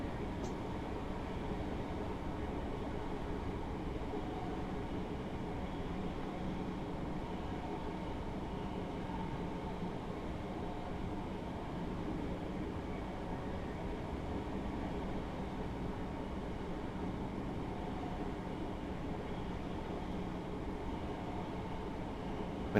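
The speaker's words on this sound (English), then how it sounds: "I've just idled the power to allow the train to coast" A Class 313 electric train coasts with power off in Train Simulator 2017 on the Moorgate to Welwyn Garden City route, a steady, even rumble of wheels and carriage noise that holds unbroken and moderately loud.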